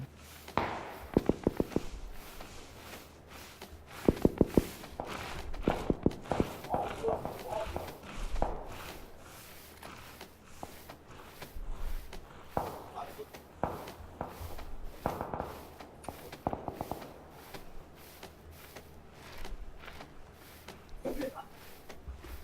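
Footsteps in PlayerUnknown's Battlegrounds, a wheat field match: quick repeated crunching steps in short runs, some close and sharp, others softer and more distant, with faint voices now and then.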